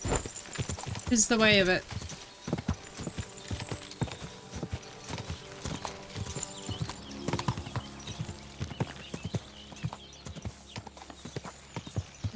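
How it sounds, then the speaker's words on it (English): Hooves of a black horse clip-clop in a steady rhythm as it is ridden in a video game, with a short whinny near the start and a voice talking over the hoofbeats. "I feel like the horsewoman of war riding in on this black horse."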